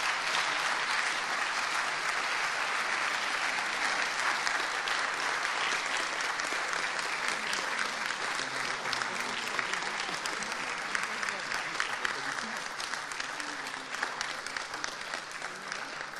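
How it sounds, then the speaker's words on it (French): A large audience at the closing of the Limoges BTP 2015 construction-industry congress applauds the assistants in blue polo shirts, a sustained, even roar of clapping that carries on for many seconds. "Donc je vous demande de les applaudir"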